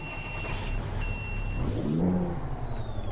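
Freightliner Classic XL truck with a CAT engine in Euro Truck Simulator 2, cranking over and catching into a low steady idle rumble that swells then settles, with faint beeping tones above it.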